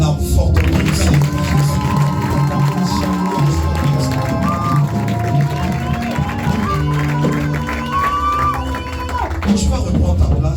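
Church congregation loudly acclaiming the Lord during praise and worship, a dense crowd of voices shouting and cheering with clapping, loud and continuous over sustained music.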